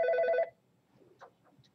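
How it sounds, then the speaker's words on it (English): A single short burst of a telephone bell ring sounds clearly at the start, then cuts off, followed by faint scattered rustles and a quiet speech-like murmur. "that was the phone ringing"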